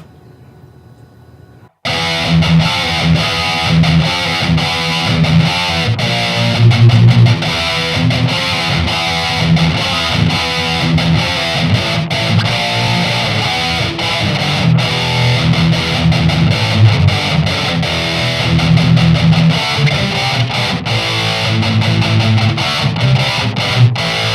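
An electric guitar plays through a Line 6 Spider V 240HC stereo head with delay, starting after a brief quiet moment and then running loud and distorted, with sustained, echoing notes for about twenty seconds.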